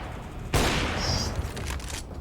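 Gunfire in the video game CS:GO: a sudden loud burst of rapid shots that keeps rattling on for over a second, dense and close, with no talking over it.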